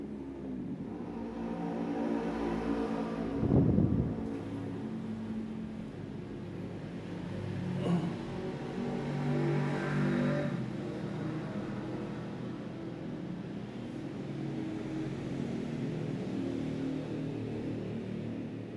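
A Newman motor's rotor spins down after the supply voltage is cut, giving a steady low mechanical hum with a faint whirr and occasional knocks that stays fairly even and close throughout, with no voices.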